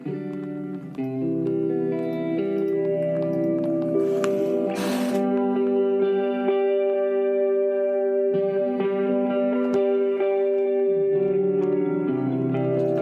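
Sustained guitar chords ring out with a shimmering, echoing delay and reverb tail, holding steady and loud throughout with a brief noisy burst midway.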